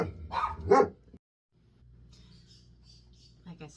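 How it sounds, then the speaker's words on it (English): Charlie, a pet dog, gives a couple of sharp close barks mixed with a person's voice, then a quieter stretch of low indoor rumble with faint high chirps. "Charlie's a barker"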